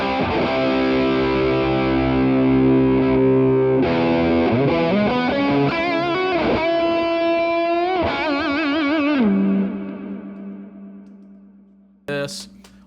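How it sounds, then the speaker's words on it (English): Electric guitar through a JHS high-gain distortion pedal, thick saturated chords and sustained notes ringing out, then fading to near silence before a brief sharp strum near the end. "This is a full-on distortion."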